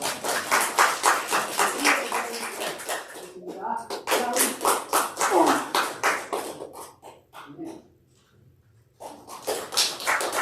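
A church congregation breaks into rapid, dense applause that swells and fades in waves, pauses briefly near the end, then resumes, with voices mixed in.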